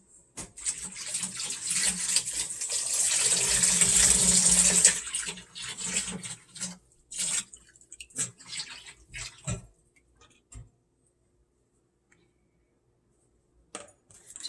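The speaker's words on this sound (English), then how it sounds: "I think I need a little bit more water." Water splashes into a bowl of bread dough for dinner rolls in a home kitchen, a steady pouring rush for several seconds that stops. Scattered small clinks and taps follow, then near silence.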